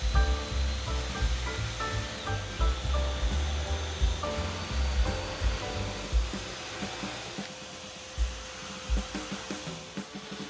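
A router fitted with a dull flush trim bit with a bottom bearing cuts holes in a wooden desk against a template, a loud continuous whining roar that shifts in pitch as the bit bites in.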